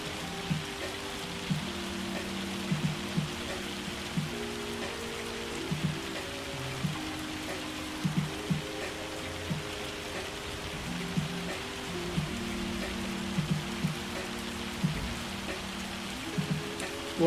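Steady rain falls in Farming Simulator 25 during baling, a constant even hiss across the whole stretch, joined by soft recurring game tones and low machinery hum.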